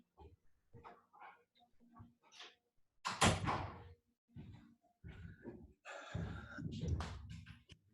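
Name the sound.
door being closed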